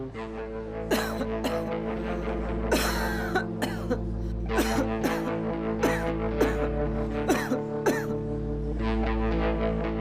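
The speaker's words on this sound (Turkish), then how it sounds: "Öksürün." A man coughs repeatedly during a doctor's lung examination in a television drama, several sharp coughs in an uneven rhythm, close and loud, over a steady low background hum.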